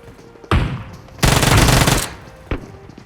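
Gunfire in PUBG Mobile: a single sharp shot, then a dense burst of automatic fire lasting under a second, then one more isolated shot, loud and close with no talking.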